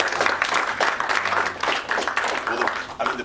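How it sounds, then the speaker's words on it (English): Audience applause at a Reddit tech startup talk in St. Louis: dense, steady clapping from a crowd lasting a few seconds, with voices mixed in, moderately loud throughout. "I hope y'all are clapping for yourselves"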